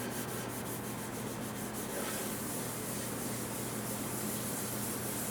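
A French polishing pad rubs shellac onto a wooden surface in steady circular strokes, giving a continuous close, soft, even rubbing hiss throughout.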